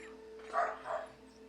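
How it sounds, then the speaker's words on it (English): A dog in a back room gives two muffled barks about a third of a second apart, faint and distant against a steady low room hum. "the dog's in the back get a little riled up"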